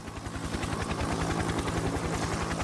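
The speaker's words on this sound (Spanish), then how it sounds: "En cabeza estaba el Huey, el Bell UH-1" Bell UH-1 Huey helicopter rotor, a loud, rapid, regular thudding blade chop over a steady turbine whine, close and continuous with no voices.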